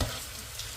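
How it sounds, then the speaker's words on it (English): Vegetables sizzle and fry in a pan for fried rice, a steady close crackling hiss with no talk over it. "Now you're actually frying the vegetable."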